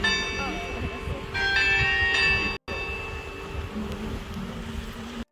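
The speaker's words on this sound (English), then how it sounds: "I caught the video of it, of its beautiful chime. Like, listen to it." Large church bell chiming, replayed from a phone recording: several sustained ringing tones over a murmuring background, then a brief cut and quieter ambience.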